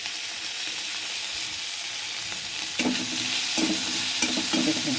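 Green chilies and garlic fry in a pan over a medium flame as the spices for a pomfret curry cook. A steady, close sizzle runs throughout, with louder bursts of stirring and frying crackle in the second half.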